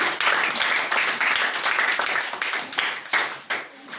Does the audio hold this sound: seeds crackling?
no